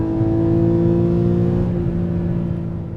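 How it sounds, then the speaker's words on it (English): A Porsche Boxster sounds a raw, race-car-like exhaust note, a strong tonal engine hum held steady and then easing off slightly at the end, close and loud. "the distinctive exhaust note of the Boxster makes you think about, raw, open exhaust race cars."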